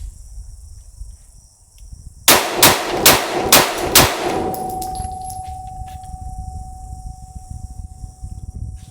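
A Glock 26 subcompact pistol fires five rounds from a 50-round drum magazine, five loud, evenly spaced sharp reports close by, followed by a lingering ringing tone and outdoor background hiss.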